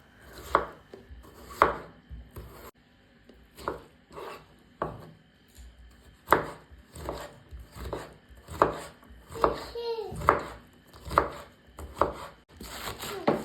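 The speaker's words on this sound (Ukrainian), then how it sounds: "беру свіжий огірок 400 г та нарізаю його невеличкими шматками" A knife chops fresh cucumber steadily on a cutting board, with sharp irregular thuds repeating throughout and brief pauses between bursts.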